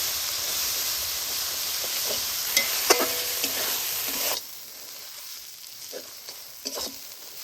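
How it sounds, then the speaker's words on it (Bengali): Water hyacinth leaves are being stirred with mustard paste in a sizzling pan for a masala curry, with steady frying hiss and scraping stir strokes. The sizzle drops noticeably halfway through, leaving quieter bubbling and occasional stirs. "সরিষা বাটা দেওয়ার পরেও হালকা করে মিক্স করে নিব"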